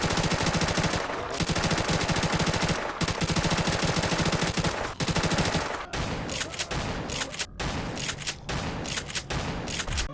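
Rapid automatic gunfire from a wall weapon in Call of Duty Zombies on the Resurgence map, sustained bursts of loud shots followed by choppier, broken bursts toward the end.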